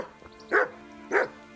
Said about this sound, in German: der bellt mich so an